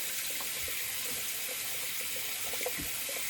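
Cold water runs from a tap into a sink during a wet shave, a steady soft hiss with small splashes, near and continuous, with no talking.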